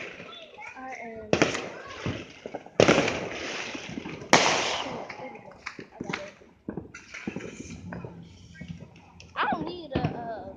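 Fireworks going off along Benning Road in Washington, D.C., several loud bursts and crackles spread across the street scene, mixed with excited voices and children talking throughout.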